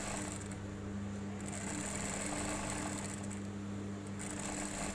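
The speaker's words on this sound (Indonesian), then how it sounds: "Kita jahit pelan-pelan lurus sampai di ujung" A sewing machine runs steadily while stitching fabric for a face mask, giving a continuous close mechanical whir with a constant hum and no talking.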